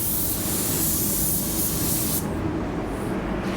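A Graco Ultra 9K paint sprayer gun runs with the fluid and fan wide open, giving a loud, close, steady hiss that shifts in tone partway through as the spray continues without a break.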